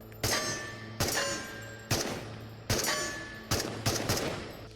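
AK rifle fire in the video game Into the Radius, six sharp close shots in short bursts, each with a sudden strong attack and a ringing decay, the last two fired close together.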